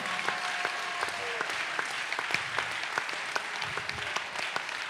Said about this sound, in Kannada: ನಾನು ಹೇಳ್ತೇನೆ ಚಪ್ಪಾಳೆ ತಟ್ಟಕ್ಕೆ